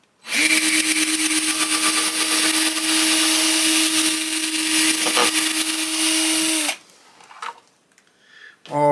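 Power tool drilling the input jack hole in an archtop guitar body, a steady high whine held for about six seconds before cutting off, followed by a few faint clicks and handling sounds.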